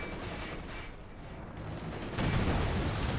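Rapid flak panzer gunfire in the video game Company of Heroes 2 during a 3v3 air supremacy match, a steady mid-distance clatter that grows louder and denser partway through.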